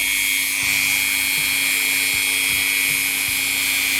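A Dremel rotary tool whines at a high, steady pitch while working on a Black Forest cuckoo clock movement, running continuously and loud up close with faint ticking clicks beneath.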